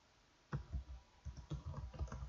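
Typing on a computer keyboard, a burst of quick light clicks starting after a brief quiet moment and continuing in an uneven rhythm, close and fairly soft.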